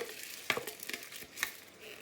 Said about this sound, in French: Ensuite, je vais mettre mon riz maintenant.